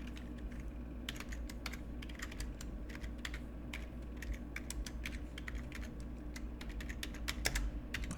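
Computer keyboard typing, a fast, steady run of light key clicks heard up close and fairly quiet, with no talking.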